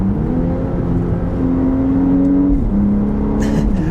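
A 2025 Audi Q5 or SQ5 engine hums steadily, its pitch holding, then dropping and settling lower in a quick downshift, heard loud from inside the cabin.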